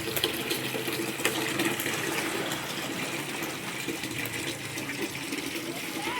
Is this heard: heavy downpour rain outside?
no